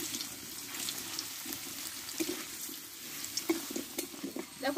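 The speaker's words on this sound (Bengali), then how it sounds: "দেখো আলুটাও আমি একটু টাইম করে কষে নেবো" Thick-cut potatoes sautéing in a pan make a soft, steady sizzle with scattered clinks and scrapes of stirring that grow busier toward the end.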